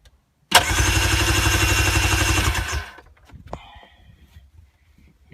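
A 1991 Yamaha Waverunner engine cranks over with a loud, steady churning burst lasting about two seconds, then cuts off, leaving faint clicks and handling noises close by.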